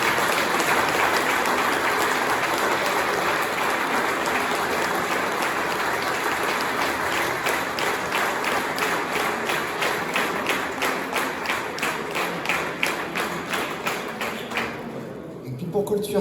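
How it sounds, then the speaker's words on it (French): Sustained audience applause fills a hall at the Limoges CSP basketball team's 2020/2021 season presentation, dense and steady for about fifteen seconds before thinning into scattered claps and fading out. "Je crois qu'on peut vraiment les applaudir très très fort."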